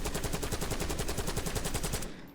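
Rapid automatic gunfire in Black Ops 6 from a weapon with firework tracers, a fast even burst of about twenty shots cracking close and loud before stopping abruptly.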